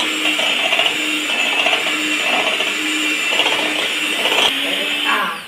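An electric mixer beats whipping cream in a bowl, giving a steady, loud motor whine that runs continuously with slight pulsing, then dips briefly near the end.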